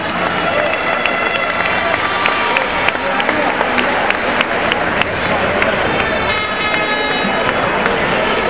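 A large crowd claps and cheers steadily at a national basketball final for the runner-up team Sanatura, a loud, dense wash of applause with talk mixed underneath.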